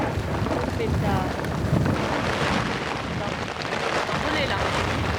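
Strong storm wind sweeps over a river during a dry-season thunderstorm on a long rowing journey, a loud continuous roar with rough gusts buffeting close by.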